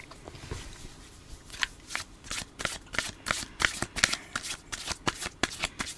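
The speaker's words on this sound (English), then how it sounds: "There's something very satisfying about the sound of those cards shuffling." Playing cards shuffled over and over at close range, a run of crisp riffling bursts that quicken and grow louder in steady rhythm.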